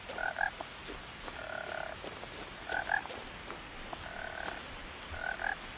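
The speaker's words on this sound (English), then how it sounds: "We've got some frogs." Frogs croak in the video game What Remains of Edith Finch, a repeating pattern of paired, rhythmic calls about once a second over a steady chirping backdrop, fairly close and without any talk.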